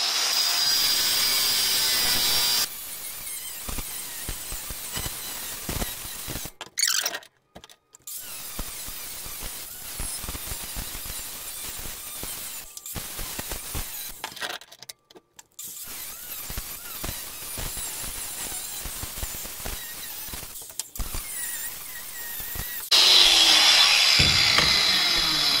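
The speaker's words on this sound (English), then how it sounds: "I'm using my Makita paddle switch grinder." A Makita paddle-switch angle grinder cutting through cast iron pipe, a sustained harsh grinding whine broken by a few brief pauses and restarts, loud and close, with no talking.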